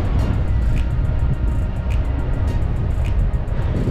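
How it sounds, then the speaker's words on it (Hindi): Strong wind buffets the microphone on a breezy Weston-super-Mare seafront, producing a constant loud low rumble throughout, with faint rhythmic ticking at the top. "हवा बहुत तेज़ है, सो विंड नॉइज़ हो"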